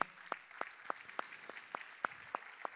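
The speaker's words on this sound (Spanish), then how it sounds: "La llamamos al escenario María, la recibimos con un fuerte aplauso." An audience at a Social Media Day event in Uruguay welcoming a speaker to the stage, with sparse, evenly spaced single claps in a steady rhythm, fairly faint against a quiet room.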